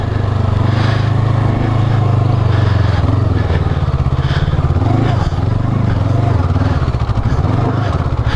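A 2019 Honda CB500X motorcycle engine under way, a loud close continuous drone that rises and falls with throttle and gear changes, accompanied by wind noise.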